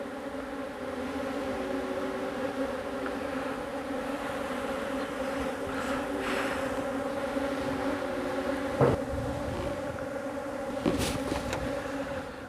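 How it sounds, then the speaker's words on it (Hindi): Honeybees buzz around a hive kept in a sack, a steady, dense drone of many insects close by, with occasional louder passes as individual bees fly near. "बस आप देख सकते हैं मधुमक्खियों की स्ट्रेंथ कितनी बढ़ गई है"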